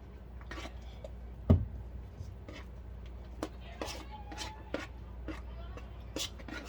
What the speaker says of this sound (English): Let's make sure it is all mixed up here.